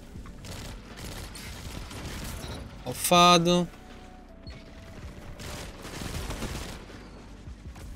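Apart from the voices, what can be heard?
gunfire from legendary raid pulse rifle in video game Destiny 2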